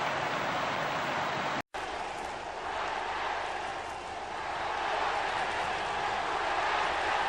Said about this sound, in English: Crowd getting all worked up now.